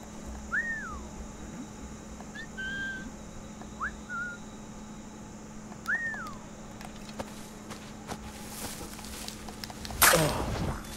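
A few short whistles ring out in Assassin's Creed 4 Black Flag, separate rising-and-falling tones spaced seconds apart over a steady low hum, followed by a brief louder rustle near the end.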